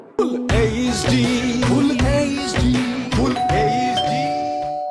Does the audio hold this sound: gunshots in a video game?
no